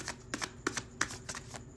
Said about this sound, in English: let me just get a good shuffle in for you